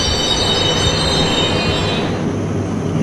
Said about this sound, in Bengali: লোকটা শুরু করার আগেই ট্রেনটা একটা স্টেশনে এসে দাঁড়ালো।